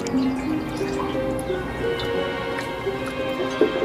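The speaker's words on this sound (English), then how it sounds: "from this top vessel as fast as that pipe will carry it really down into the bottom vessel. That's starting to fill up." Water pours from an upper vessel down a pipe into a lower vessel that is filling up. A steady gurgling rush runs throughout with faint dripping over it.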